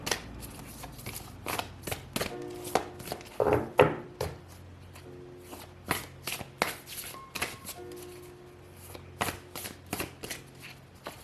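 Oracle cards being shuffled by hand in quick repeated riffles and soft slaps, a steady close rustling flutter with a few louder shuffles, no talking over it.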